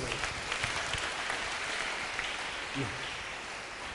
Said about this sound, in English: Can you clap for Jesus for that?